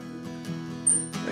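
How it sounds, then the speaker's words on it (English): A single high, thin bird chirp rings out briefly inside a barn over a low steady hum, with faint soft rustling around it. "Bunch of birds nesting in this barn."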